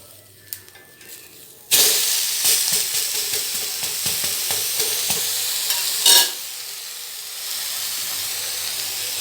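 A vegetable uthappam dosa is flipped on a hot pan, giving a soft clatter, then a loud, steady sizzle of frying batter and oil with scraping stirs, the hiss briefly swelling before settling into a quieter steady fry.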